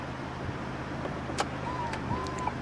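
A Genesis G70 3.3 turbo's power trunk closes with a faint electric motor whine over a low idling hum, ending in soft latch clicks, all fairly quiet.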